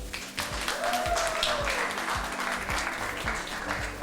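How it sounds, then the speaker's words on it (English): A festival crowd at the KITF 2022 theatre event claps steadily, a broad sustained patter of many hands with a few sharper nearby claps and some voices mixed in. "the people who are clapping the hardest are some of the writers"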